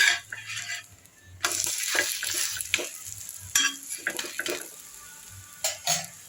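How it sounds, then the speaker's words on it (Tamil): A wheat flour parotta cooking on a hot pan, pressed and tapped with a spatula and then flipped, with soft sizzling broken by irregular clinks and taps of utensil on metal, close up and without talk. "லேசாக இதை அப்படியே வந்து தட்டி விடுவோம் நல்லா வேகட்டும் இப்போ பரோட்டாவை நல்லா திருப்பிடுவோம்"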